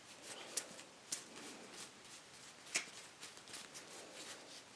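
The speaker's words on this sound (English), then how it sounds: "I'm just trying to find the cards because I mixed them." Bicycle Tie Dye playing cards are handled and riffled while someone searches through a mixed-up deck: soft papery shuffling with several sharp card snaps, close and quiet, with no speech.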